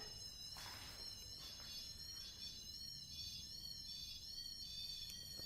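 A REM pod ghost-hunting device in a supposedly haunted mansion emits a steady, high-pitched electronic tone that warbles continuously throughout, with faint room noise and a couple of soft knocks underneath.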